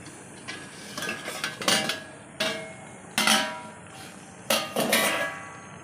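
A metal lid lifted and handled on a cooking pot of simmering cabbage rezala curry, several bright clanks and scrapes in separate bursts, close by with no voices.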